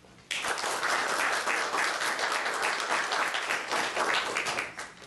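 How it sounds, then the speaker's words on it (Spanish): Hearty applause from a seminar audience welcoming a history professor, starting abruptly and holding full and steady for several seconds before tapering off. "para el cual le pido un gran aplauso."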